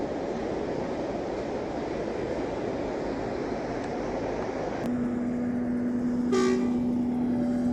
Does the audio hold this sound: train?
yes